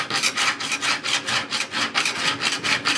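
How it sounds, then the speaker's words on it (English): A hand file works a welded steel tube on a Piper Supercub refurbishment, making loud, close, rhythmic rasping strokes at about three per second, repeated evenly with no talk. "a little bit of work with the file in there to get that weld"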